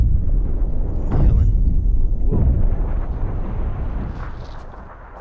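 Mortar blasts in the PUBG battle royale game on the Sanhok map land close by: two heavy booming impacts about a second apart, loud and rumbling, with a lingering low roar that slowly fades; players talk over the action.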